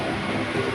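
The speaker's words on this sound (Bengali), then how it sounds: "তো ট্রেন আমার পাতিপুকুর থেকে ছেড়ে এগিয়ে যাচ্ছে" Kolkata Chakra Rail local train pulling out of Patipukur station, a steady broadband rumble and rattle of moving train cars, loud and continuous, with no voices.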